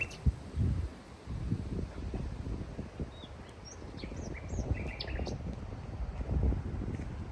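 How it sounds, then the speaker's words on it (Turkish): Birds sing outdoors near thorny blackberry bushes, with scattered high chirps and short calls drifting over a low rumble of wind, fairly faint and distant. "Ama kuşlar çok güzel ötüyor."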